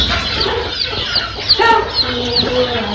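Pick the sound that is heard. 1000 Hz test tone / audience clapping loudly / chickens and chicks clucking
chickens and chicks clucking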